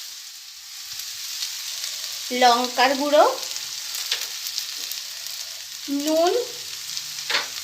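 Lentils and potatoes frying with spices in a wok, a continuous close sizzle and crackle, with someone speaking briefly over it twice.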